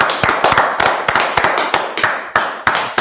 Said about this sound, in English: All right, let's clap it up for the class.